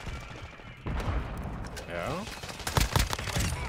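Hurricane SMG fire in Modern Warfare 2 rattles in rapid bursts among other game gunfire and booms, fairly loud and busy, with players talking over it.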